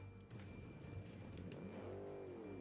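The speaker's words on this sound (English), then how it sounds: "The car is clearly very loud." A loud video game car engine drones steadily and rises in pitch as it revs, with a faint tire-like squeal near the end.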